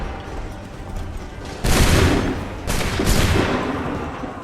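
Musket volleys in the video game Assassin's Creed 3 roar out as two broad, rumbling blasts a second apart, each decaying into a lingering noisy wash over a low ambient background.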